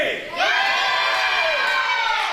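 A wrestling crowd at an indoor show erupts in loud cheering, whoops and shouts, swelling quickly after a brief lull and holding at a full, close roar.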